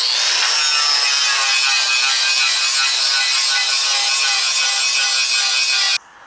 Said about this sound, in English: I can just go through and grind off this old finish to get this really cool raw finish